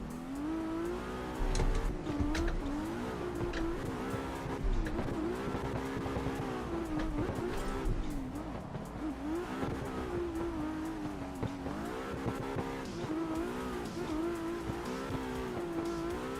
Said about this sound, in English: Now the Supra is a quick car.